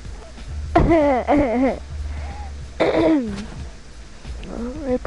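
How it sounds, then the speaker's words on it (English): A person gives a hoarse, raspy cough with wavering, strained throat-clearing sounds, coming in two close bouts and then a quieter rasp at the end. "Your cough scared me."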